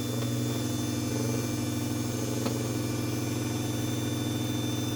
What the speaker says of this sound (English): I've never really had one of these light covers vibrate before.